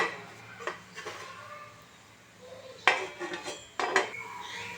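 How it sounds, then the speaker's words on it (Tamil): A lid is set onto a cooking pot holding a banana and wheat flour tumbler cake, giving a few clanking metal knocks and rattles against a faint kitchen background, with no talking. "இப்போ இது வந்து மூடி போட்டு மூடிக்கலாம்."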